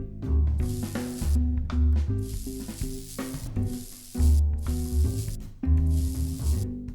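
A spray gun set to 1 bar lays down a stringy, yarn-effect wood sealer in uneven horizontal passes, producing loud hissing bursts that start and stop over steady mechanical background noise.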